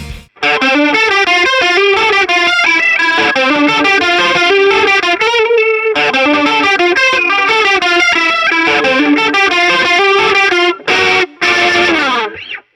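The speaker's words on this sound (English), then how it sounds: "Now let's move on to the chorus pedal." An electric guitar through a chorus pedal, with a wide, shimmering J-rock modulation effect, plays a busy run of notes, loud and close, with brief pauses near the end.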